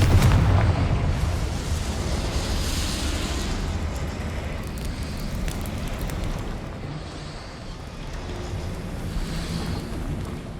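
A Confringo blasting spell in the video game Hogwarts Legacy goes off inside a goblin mine as a loud booming explosion, followed by a long rumbling roar that slowly fades.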